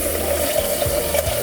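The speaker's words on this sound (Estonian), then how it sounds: "Riisi pesemist on vaja lisada siia vett." Water pours steadily into a pot of washed rice in a kitchen, a continuous close gushing with a faint low hum underneath and no speech.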